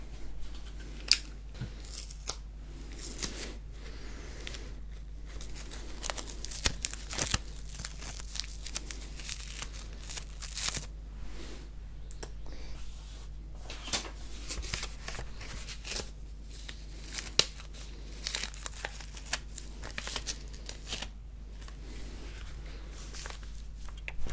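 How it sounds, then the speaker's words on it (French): A small piece of adhesive tape is pulled and torn off the roll close to the microphone in a quiet ASMR setting. It gives soft crackles and sharp little clicks scattered unevenly over a long stretch. "Un petit bout de scotch."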